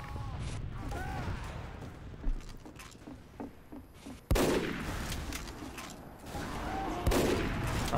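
Gunfire in Team Fortress 2 on the 2Fort map, with several sharp, loud shots at irregular intervals amid busy game noise, including sniper rifle fire.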